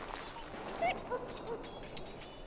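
A muzzled dog whimpers in the Dragon Age: Origins video game, with faint, thin whines and yips rising over a soft ambient background at a distance.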